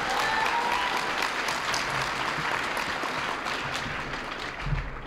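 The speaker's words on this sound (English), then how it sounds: "I think we ought to give them a round of applause." An audience at an Asian-American Democratic dinner in California applauds, a dense, sustained roomful of clapping that gradually thins toward the end.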